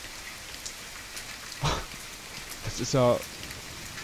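Rain falls steadily as a soft hiss in the survival video game The Forest. Someone speaks briefly over it.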